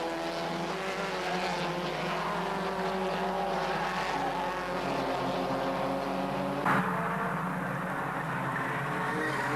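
Production racing cars from the 1988 championship stream past on a breaking-up track, overlapping engine notes droning steadily with shifting pitches, a continuous roar of several cars rather than one passing, with a brief louder burst near the end.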